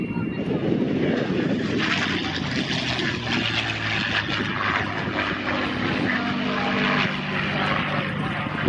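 Loud, continuous roaring drone of a P-51D Mustang's Rolls-Royce Packard Merlin engine as the fighter sweeps past low and close on a straight-wing pass at an airshow, steady and uninterrupted throughout.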